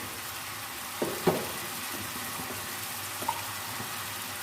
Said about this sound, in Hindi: टमाटर, सब्ज़ मिर्च, अदरक को हम प्याज और लहसुन के साथ ही भून लेते हैं, भुनाई कर लेते हैं।